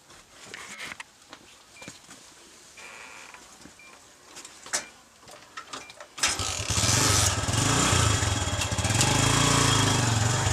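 A motorcycle engine cranks and catches after a few quiet seconds of clicks and handling, then runs loud and steady with a rough, continuous roar.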